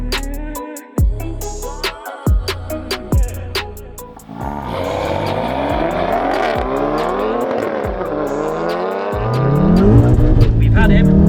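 A 500 bhp BMW M140i and a 500 bhp Mk7 VW Golf R launch in a drag race, engines revving in sharp bursts before a loud surge of acceleration and tire noise, with music beneath.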